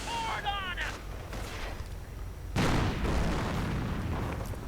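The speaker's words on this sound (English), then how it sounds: "Riflemen though coming under heavy fire as the Panzer IV moves in, firing 75mm high explosive rounds into this dense body of Americans" In Company of Heroes 2, a Panzer IV fires 75mm high-explosive rounds amid battle noise, with one heavy boom partway through over a constant rumble of distant gunfire and a brief voice early on.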